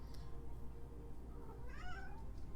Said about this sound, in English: Hold on, we got a cat issue.